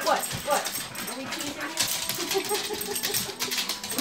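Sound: dogs whimpering

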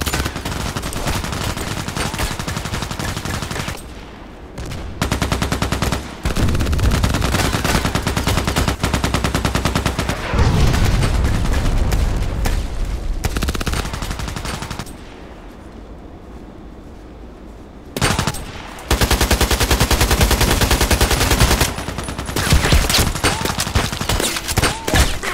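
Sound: AKMS rifle gunfire in Contract Wars video game

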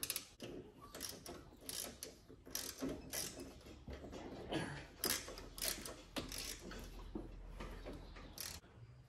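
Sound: socket wrench ratcheting out a riding mower spark plug

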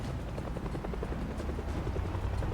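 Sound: helicopter arriving in the video game Project Zomboid

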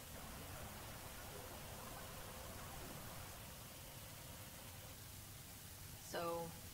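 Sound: white noise static in Mass Effect Andromeda video game

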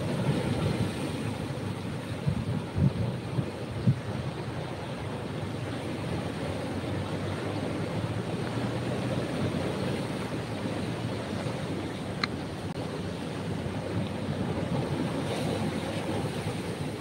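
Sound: ocean waves on the east beach of Pangandaran

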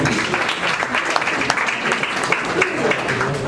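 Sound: audience applause at art exhibition inauguration

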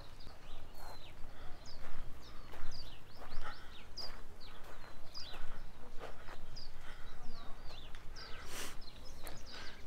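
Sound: birds chirping

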